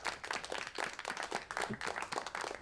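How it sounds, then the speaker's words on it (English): A small crowd claps in a brief, continuous ripple of applause, fairly faint and distant, with no talking. "That applause is also for Jason Yu and whoever else arrived recently."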